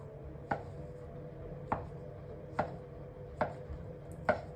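A knife chops through soft dinner roll dough in five sharp, evenly spaced cuts, each a crisp tap on the board against a low steady background hum.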